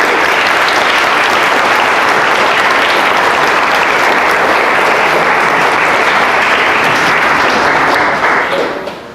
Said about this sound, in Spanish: lo recibamos con un caluroso aplauso